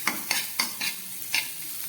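A spiced potato and green pea filling fries in butter in a pan, giving a soft sizzle broken by several sharp, close scraping stirs at an uneven rhythm.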